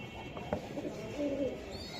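Pigeons coo softly at a pigeon sale, a few brief low coos in a quiet setting with faint background noise.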